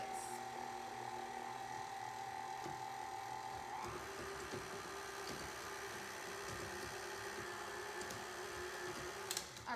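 A stand mixer turns its paddle through banana bread batter, a steady motor whine with a rhythmic churning that shifts pitch partway through as the speed changes, continuous and close, with no talking.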